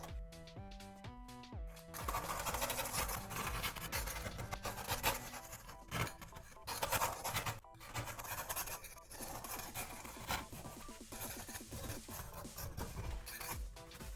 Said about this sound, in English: Using lots of isopropyl alcohol and scraping with a few blades,